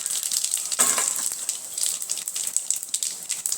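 Mustard seeds and cumin seeds sizzle and crackle in hot oil for tempering, making a close, busy, spattering hiss with rapid pops throughout and no talking.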